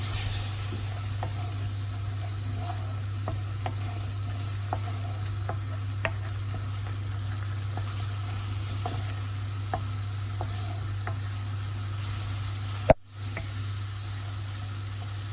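Onions sizzle steadily in a pan after a splash of water while a small-fish curry cooks, with scattered light stirring knocks and one sharp clatter near the end; no talking.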